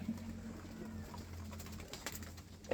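A female Kaldum pigeon coos softly at close range, a low repeated murmur against quiet room noise, with a few faint clicks and rustles near the end.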